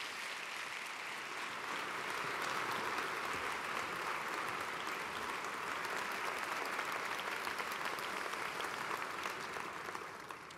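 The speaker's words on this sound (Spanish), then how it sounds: "Así que un súper fuerte aplauso" An audience at an opera lecture on Mozart's Don Giovanni applauds two singers, a sustained, dense round of clapping from a large crowd that holds steady for about ten seconds before easing slightly at the end.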